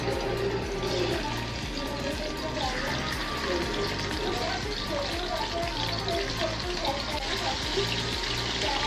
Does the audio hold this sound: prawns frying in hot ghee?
yes